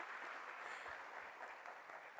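Applause from an audience at a launch event in Rio de Janeiro, a faint, distant, even wash of clapping that holds steady for a couple of seconds with no voices over it.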